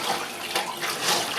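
Drain water pouring out of a compact twin tub washing machine, a steady broadband rush of running water with no pauses, fairly close and moderately loud throughout.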